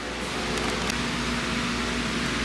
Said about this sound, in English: sorry about the fan noise.